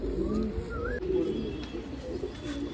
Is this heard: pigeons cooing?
yes